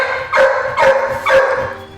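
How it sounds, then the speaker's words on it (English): A dog barks eagerly for donuts, three loud, close barks with a whiny edge, evenly spaced about half a second apart. "Every word, every bark was the word donut in dog."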